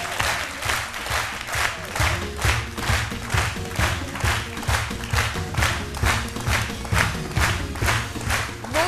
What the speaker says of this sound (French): On applaudit très fort Madame Koba